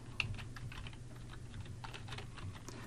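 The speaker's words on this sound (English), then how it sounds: "I'm going to type style equals double quotations" Typing on a computer keyboard while entering HTML and CSS code, a steady run of light, quick key clicks at moderate distance over a low background hum.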